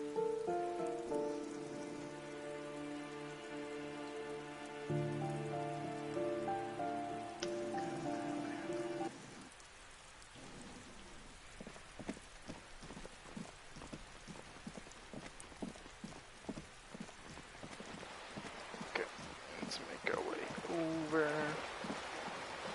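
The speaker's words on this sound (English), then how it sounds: "Rain." Rain falling in the video game Disco Elysium, a steady wash of drops that continues beneath a tonal music passage at the start and then carries on alone, with scattered drips.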